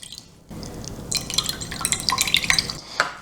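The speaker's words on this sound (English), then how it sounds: "I'm going to separate the water here into this bowl." Soaked millet water poured from a pot into a bowl, a splashing, trickling pour with light clinks of cookware, starting after a half-second of quiet and continuing steadily, close and moderately loud.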